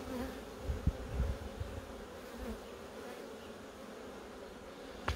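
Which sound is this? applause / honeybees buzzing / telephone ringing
honeybees buzzing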